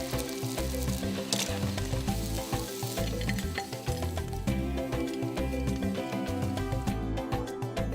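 Bread dough frying in oil, a Bulacan pastry made with calamansi-like dayap and kalumata leaves, gives a steady close sizzle and crackle throughout, layered over background music with no talk.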